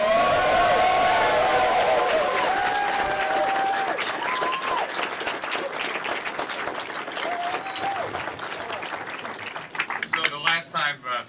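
An audience greets someone with loud sustained applause and cheering at a Startup Grind talk, fading toward the end as a voice begins.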